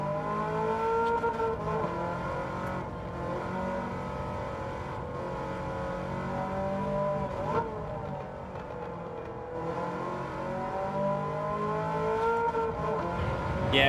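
A race car engine in Gran Turismo 7 drones steadily, its pitch rising and falling as the car accelerates and shifts through corners, continuous and fairly close with no talk.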